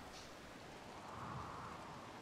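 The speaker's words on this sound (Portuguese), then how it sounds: "Tá chovendo, não tá?" Soft, steady rain hiss falls continuously in the Rimworld video game, quiet and even throughout with no voices.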